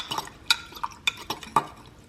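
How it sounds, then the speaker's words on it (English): A fork stirs a barbecue sauce mixture for Carolina barbecued pork in a measuring cup, making four or five sharp, close clinks against the cup amid soft swishing. "Just going to stir this together."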